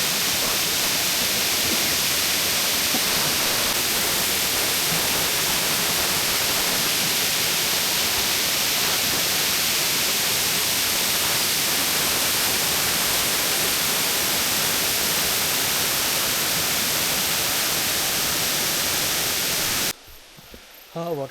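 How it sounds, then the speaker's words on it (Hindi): Waterfall at Triplet Falls, a loud, steady, broadband roar of rushing water filling the scene without a break for about twenty seconds, then cutting off abruptly near the end. "देखो इस साइड पे अगर देखो तो ये वाटरफॉल का व्यू और खूबसूरती बहुत ज़बरदस्त नज़ारा आ रहा है।"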